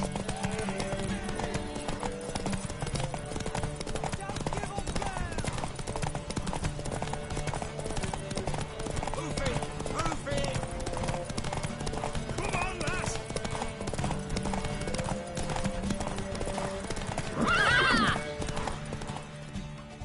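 Rhythmic clip-clop of horse hooves trotting steadily in the video game The Witcher 3, with a brief whinny near the end, over background music and some speech.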